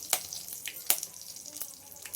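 Chopped onions hit hot oil with mustard seeds and curry leaves for a pumpkin gojju, giving a soft, steady sizzle broken by several sharp crackling pops close by.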